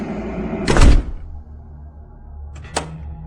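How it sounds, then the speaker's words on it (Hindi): A door being shut and locked from the inside in a hotel room at night, heard as a loud thump near the start followed by a shorter, sharper latch click a couple of seconds later, with no voices. "उसने एक बार फिर दरवाजा अंदर से बंद किया और 2-3 बार चेक भी किया।"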